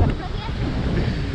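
Strong sea wind blows at Revdanda Fort on the coast, a heavy low rumble buffeting the microphone continuously and loudly for the whole moment.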